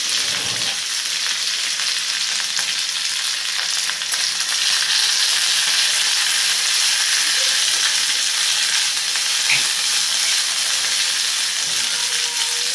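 Shredded cabbage sautés in hot oil with a loud, continuous, even sizzle and faint stirring, close by with no voices.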